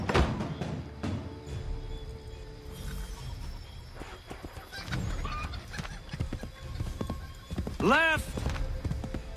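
Horse hooves clopping at a steady gallop in Assassin's Creed 3, rhythmic and mid-distance under game ambience, with someone shouting briefly and a sharp whistle-like sweep near the end.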